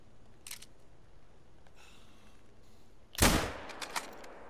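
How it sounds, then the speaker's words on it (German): A rifle shot rings out in the hunting video game theHunter: Call of the Wild, a single loud sharp crack after a stretch of quiet ambience, followed by a brief fading tail. "Der Schuss ging, glaube ich, daneben."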